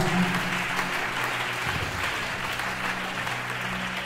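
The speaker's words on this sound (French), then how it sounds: "Acclamons le Seigneur également." A church congregation claps together in sustained, dense applause that holds at an even level throughout, filling the room without pause.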